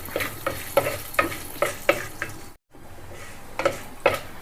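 Urad dal fries in oil in a pan, a steady sizzle broken by regular scraping stirs from a spoon, close and clear, with a brief dropout partway through and no talking.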